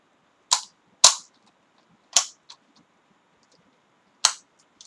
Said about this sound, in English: take your thumb and push the rounds off the stripper clip into the magazine